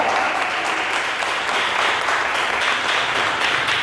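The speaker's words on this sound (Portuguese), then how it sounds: "Aplauda o nome santo do Senhor" A church congregation breaks into steady, full applause, a thick, even roar of many hands clapping throughout with no voices standing out.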